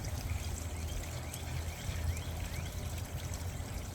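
A SunSun UV clarifier pump churns water in a pond or tank, a steady low gurgle and trickle running continuously at close range with no voices.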